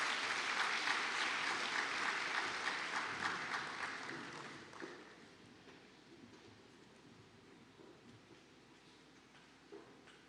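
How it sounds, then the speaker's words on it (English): Conference audience applauding at an awards ceremony, loud dense clapping that fades gradually over several seconds into quieter room noise, with a few late claps. "Could you give everybody a nice big round of applause?"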